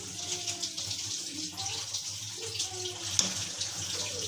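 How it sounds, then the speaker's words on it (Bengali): Water poured into a pan of cooking taro stolons (kochur loti) with prawns, a steady close splashing flow that continues throughout with a small clink near the end. "এতে পানি দিলাম এই পানিটা সিদ্ধ হয়ে যাবে"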